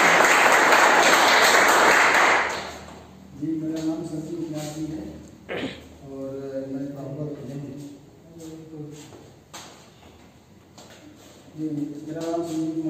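An audience at a marketing company's silver club achievers ceremony claps loudly for about two seconds. The applause then stops, and someone speaks into a microphone for the rest of the time.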